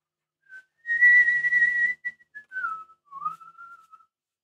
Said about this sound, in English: Whistle as I work.